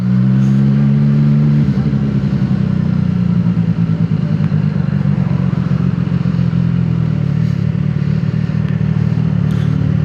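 A motorcycle engine runs at a steady idle up close, a continuous low throbbing drone that holds an even level throughout.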